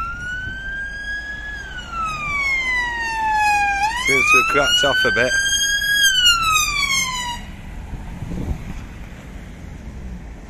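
A police car siren wails near a football ground during arrests, rising and falling loudly and then switching briefly to a rapid yelp before fading, with wind buffeting and someone speaking briefly.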